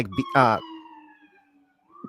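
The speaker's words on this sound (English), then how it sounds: "that's a new siren. Haven't heard that one in a while." A brief police siren wail rises and then trails off at a distance. It is faint and mixed with voices.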